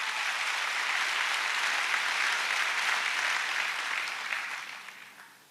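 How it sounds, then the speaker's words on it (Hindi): Audience at a business success day event in Mumbai giving a loud, continuous round of applause, dense and steady before tapering off at the end. "उनके लिए एक जोरदार ताली मैं चाहूंगा प्लीज"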